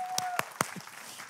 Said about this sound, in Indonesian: Nah, tepuk tangan bagi nama Tuhan.